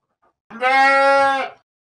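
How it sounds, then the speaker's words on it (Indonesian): A single sheep bleat, a clear, close, loud bleating call held for about a second with a wavering tone, alone against silence. "Domba."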